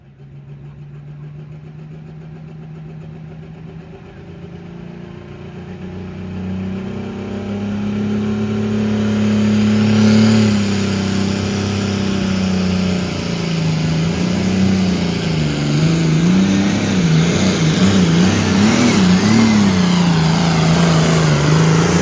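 A John Deere 4010 tractor at a truck and tractor pull revs up from a steady drone into a loud, strained roar whose pitch climbs and wavers as the pull goes on, close and continuous without speech.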